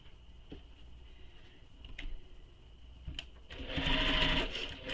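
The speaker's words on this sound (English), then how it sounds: "we're going to sew this with the seam allowance given in the pattern" A sewing machine runs a bag seam, a faint steady mechanical whir with a few sharp clicks, then swelling louder and busier toward the end, close and alone.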